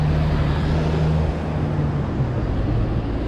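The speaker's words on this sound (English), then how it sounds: "A lot of cars going past there." Steady road noise from a stream of cars passing by, a continuous dense rumble and hiss with low engine drone and no distinct gaps.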